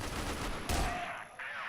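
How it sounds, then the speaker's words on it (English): Pistol shots in the first-person shooter CrossFire during a grand finals esports match, a sharp close burst of gunfire followed by a brief second crack amid continuous game noise. "Pistols ring true!"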